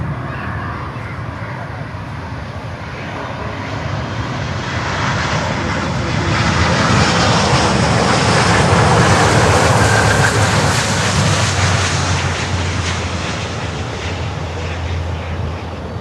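Qatar Airways Airbus A350-1000 jet engines at Miami airport, a broad steady roar that swells over several seconds and holds loud before easing slightly, with wind rumble and no talk.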